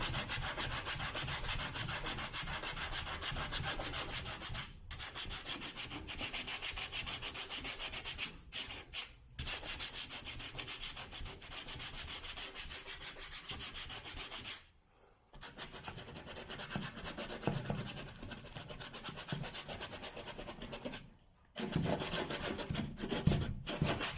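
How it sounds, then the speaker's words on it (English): Sandpaper rubs steadily across a patched drywall ceiling, a continuous loud scratchy hiss of back-and-forth strokes with a few brief pauses, alone with no talking. "Okay, so I've sanded off this, and it's nice and smooth."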